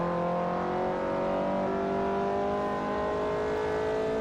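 Steady engine drone of a Mark II Supra race car in Forza Motorsport 4, a loud, constant tonal whine held at nearly even pitch throughout with no speech over it.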